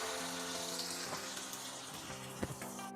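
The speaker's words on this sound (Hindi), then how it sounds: "पानी डाल दिया हमने।" Water poured into a pot of chicken masala for murg musalam, a steady close pour and splash with faint sizzling over about three seconds, no talk.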